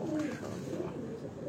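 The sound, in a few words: pigeon cooing on a Lahore rooftop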